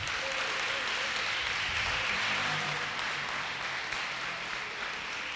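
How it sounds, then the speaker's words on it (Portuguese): A church congregation claps continuously, a dense, steady wash of applause filling the space for several seconds. "Você pode aplaudir o Senhor Jesus?"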